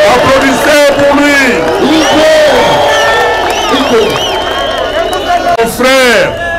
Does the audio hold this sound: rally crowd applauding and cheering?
yes